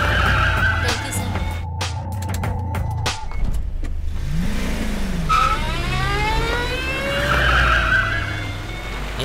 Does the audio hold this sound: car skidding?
yes